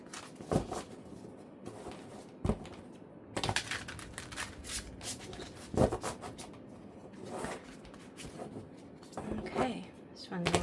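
A tarot card deck is handled and shuffled in bursts, crisp riffling and slapping of cards coming in uneven clusters, close to the microphone, with a person speaking intermittently between the shuffles.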